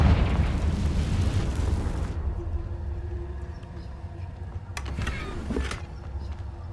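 A fiery blast from the Confringo spell in Hogwarts Legacy, a loud roaring burst that rumbles and fades over two seconds, followed by a low hum and a brief crackle later.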